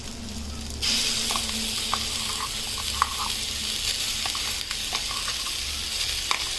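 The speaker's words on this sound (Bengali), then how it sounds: "ভালো করে নেড়ে নেব, কষিয়ে নেব এটাকে।" Spice masala with turmeric, coriander powder and chopped prawns being stirred and fried in a pan, with a hissing sizzle that rises sharply after a moment and scattered scraping taps of the spoon throughout.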